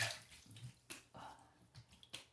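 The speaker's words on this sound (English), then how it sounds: "I'm gonna wet my face and get it going on." Water splashes and drips at a bathroom sink as a face is wetted before shaving, a few soft irregular splashes with quiet trickling between them, close but faint, without talk.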